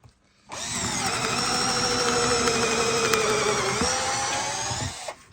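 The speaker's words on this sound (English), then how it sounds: "We'll have a go at a wood bit." A 2008 Makita power drill, new and never used, bores through wood with a wood bit in one continuous whine, its pitch sagging slightly as it labors, then spinning down after about five seconds.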